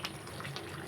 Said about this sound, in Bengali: মশলার বাটি ধোয়া জল অল্প এটাতে দিয়ে দেবো